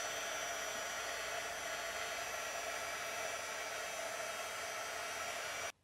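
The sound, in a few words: heat gun blowing on paper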